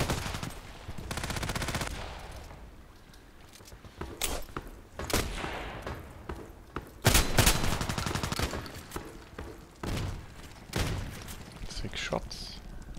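Shotgun blasts in a first-person shooter video game, a series of loud broadband bangs spaced irregularly across the clip, with a voice talking over the gunfire.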